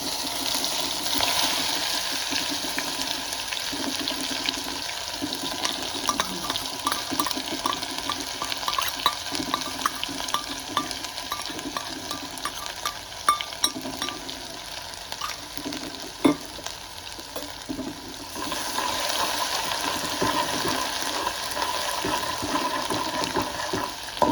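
Ground garlic, ginger and green chili paste frying in a pan for a traditional festival thali, giving a steady close sizzle with scattered light stirring clicks and no talking.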